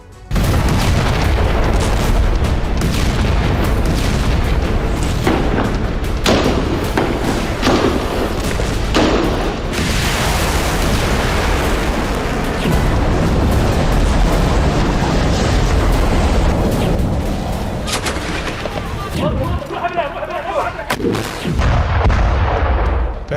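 Explosions from an aerial bombardment of Gaza come as a dense, continuous barrage of loud booms and thuds, overlapping and rumbling for over twenty seconds. Several sharper blasts stand out.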